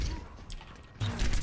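A gun reloads in a video game with a short run of mechanical clicks and rattles, then a louder metallic clack, close and crisp.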